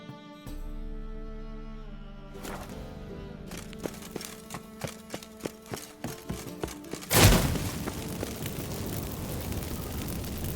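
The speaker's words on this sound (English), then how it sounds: "Get ready for some magic fireworks." Magic fireworks burst after incense is lit in The Witcher 3: a sustained tonal hum gives way to a run of sharp popping thumps, then a loud whooshing eruption that keeps crackling to the end.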